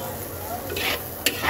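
Spices frying with tengra fish and yardlong beans in a pan, stirred with a utensil: steady sizzle under scraping strokes and a sharp clink of metal near the end, close and fairly quiet.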